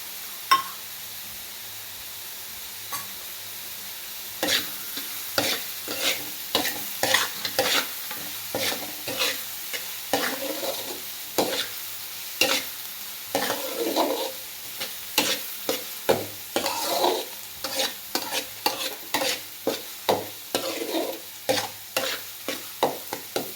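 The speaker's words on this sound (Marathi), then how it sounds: "असा मऊ पडेपर्यंत आपल्याला हा कांदा भाजून घ्यायचा आहे व्यवस्थित." Chopped onions sautéing in a pan for pav bhaji, a soft sizzle under steady scraping stirs that begin faintly and grow into a quick, regular rhythm of close spoon strokes, no voices.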